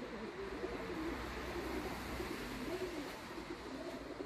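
Pet pigeons coo softly in a repeated, wavering rhythm, faint and steady against a low background hum with no talking.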